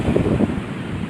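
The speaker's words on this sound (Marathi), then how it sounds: "समुद्रात काय जोर दिला बघा" Sea waves surge against the coast near a village shore, a short, steady rush of surf blended with wind noise and no voices.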